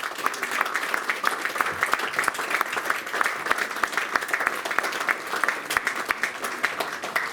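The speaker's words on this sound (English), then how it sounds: "I think that's a round of applause for the court reporters" A room full of people applauds the court reporters at a fan Q&A, steady continuous clapping at moderate volume lasting throughout, without speech.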